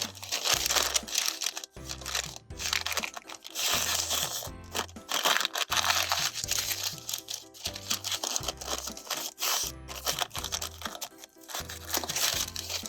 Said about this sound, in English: I'm going to take one of the pieces of blue paper, and I'm going to fold it into quarters.